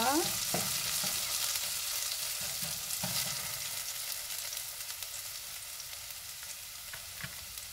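Black lentils (urad dal) hit with a hot ghee tempering of onion, ginger, garlic and red chilli, giving a loud burst of sizzling and frying that slowly eases into a steady crackle with occasional stirring.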